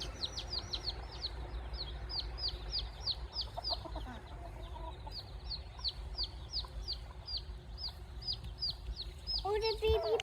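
A mother bird and a baby bird call back and forth outdoors, rapid repeated high chirps running steadily over a low rumbling background, with a few lower clucking calls near the end.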